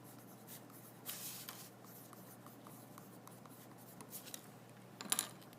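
A pencil scratching a name and class code onto the bottom of a paper plate, faint, close scribbling strokes in a quiet room, with a couple of louder rustles of the plate.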